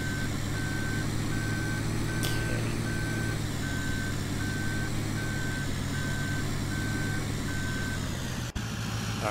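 Truck reversing beeper in Farming Simulator 17 sounds as a steady, evenly spaced string of beeps over a constant engine drone, with one sharp click near the end.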